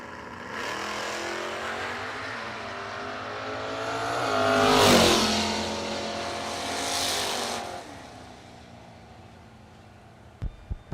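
A clean Mustang drag car launches down the strip at a bracket race, its engine roaring loud and rising as it pulls away, then fading into the distance, with a sharp click near the end.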